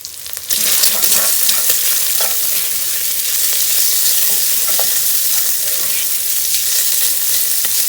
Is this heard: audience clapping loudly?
no